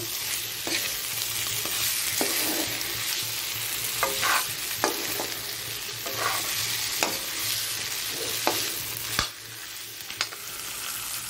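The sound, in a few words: stirring crab chutney gravy in a pan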